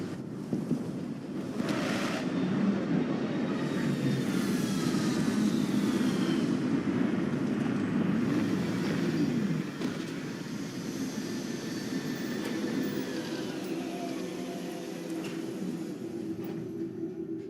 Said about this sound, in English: Landing now, Captain.